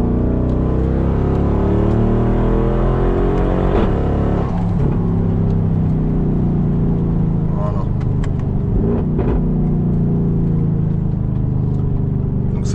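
A Brabus car rated at 850 horsepower drives along a road, its engine roaring loud and close with steady pulls and rising revs.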